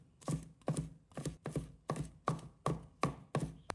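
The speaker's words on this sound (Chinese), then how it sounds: "同样先拍碎，蒜瓣在刀下服软后剁成蒜末。" Garlic cloves crushed and minced with a kitchen knife while preparing a steamed king oyster mushroom dish: about eight sharp, evenly spaced chops land close and crisp, each with a brief woody thud.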